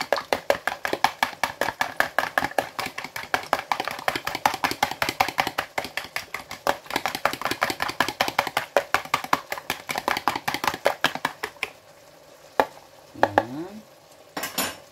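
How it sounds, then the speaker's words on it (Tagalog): Eggs beaten briskly in a bowl with a utensil, a fast, steady clatter of quick strokes for about twelve seconds, close and loud, before it stops and a few scattered clinks follow. "Batilo na to ang itlog."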